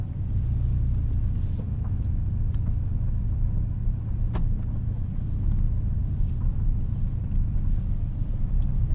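A base-model Porsche 718 Cayman pulls away around the block, heard from inside the cabin as a low, steady engine rumble with light clicks and rattles over it.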